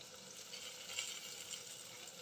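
Eggplant frying in a covered pan gives a soft, steady sizzle and hiss throughout, fairly faint and even, with no voices.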